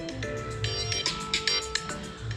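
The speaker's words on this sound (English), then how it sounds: "That is my phone again." A mobile phone ringtone plays a bright, repeating electronic melody, steady and moderately loud, in a workshop unit with no talking over it.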